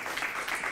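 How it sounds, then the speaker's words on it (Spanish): Applause from a theatre-style audience during an interview, a brief, moderately loud patter of many hands clapping with no talk over it. "Es un aplauso."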